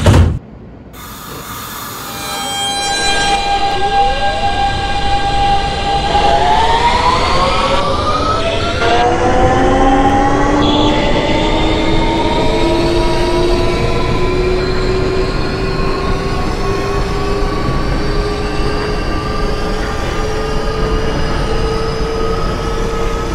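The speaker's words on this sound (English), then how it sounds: "This is a Manhattan-bound M train." An R160B Siemens subway train in a train simulator game pulls away and runs, the electric motor whine rising steadily in pitch as it accelerates, with rumbling wheels and track noise loud and close for the whole stretch.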